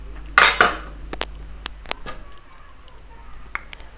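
Phuthu, a crumbly maize pap, being mixed in a pot: a couple of loud utensil clanks against the metal, then scattered lighter taps and scrapes, close up and without talking.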